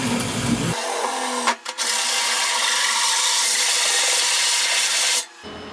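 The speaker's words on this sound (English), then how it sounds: "Now I'll go ahead and drill the holes with the small one." A steady, loud cordless drill grinding and whirring through a Fox Body Mustang's metal gas tank, running continuously for several seconds with a brief stutter partway through before it stops.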